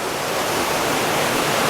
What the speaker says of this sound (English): When the water then cascades over,